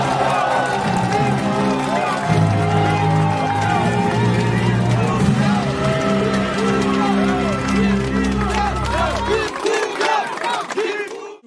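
A crowd at a campaign office opening ceremony cheers and shouts loudly and without a break for several seconds, with voices mixed in, before the noise drops off near the end.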